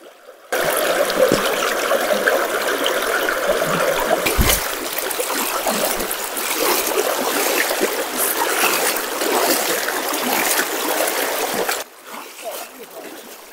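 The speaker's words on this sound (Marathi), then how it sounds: "आय होप तुम्ही छोटीशी एक क्लिप वाहत्या पाण्याची एन्जॉय केली असेल" Fast-flowing river water near Khed in Ratnagiri rushing and splashing in a steady loud wash up close, starting abruptly and cutting off near the end, with a voice heard briefly.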